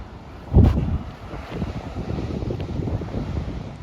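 Wind blowing across the microphone on a wide sandy beach near Albufeira in the Algarve, Portugal, a steady rough rumble with a louder gust near the start and faint surf beneath, no talking.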